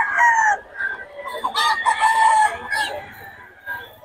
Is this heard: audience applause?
no